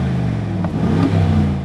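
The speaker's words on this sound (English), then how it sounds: "Aston Martin has tuned the exhaust for a very fruity sound" An Aston Martin DBX exhaust in normal mode gives a brief, moderately loud rev from close by, a deep burbling engine note that rises and settles without much rasp.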